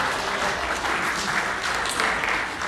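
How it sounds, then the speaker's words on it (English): Steady audience applause at a Pasifika cultural festival rehearsal room, moderately loud and even throughout the short stretch, with no talking over it. "Another round of applause for Miss Shalom Cookie from Palmerston North Girls High School"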